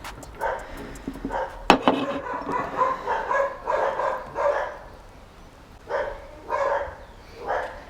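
Several dogs bark in repeated bursts, moderately close, in a home kitchen setting while eggplant parmesan is being prepared.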